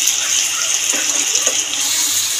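Spice water from a bowl is poured over masala frying in a pan while a Bengali katla fish curry is being cooked, a steady close gush and splash of liquid lasting a couple of seconds, with no talking.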